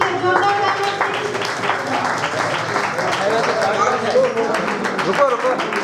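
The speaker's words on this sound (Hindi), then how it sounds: "जोरदार तालियां प्लीज" Audience at a church prize distribution ceremony claps steadily for the winners, a dense continuous patter of applause with voices mixed in.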